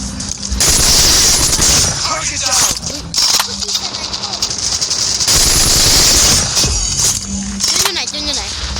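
Call of Duty gunfire rattles almost nonstop in loud, dense automatic bursts with brief gaps, while voices talk over the in-game shooting throughout.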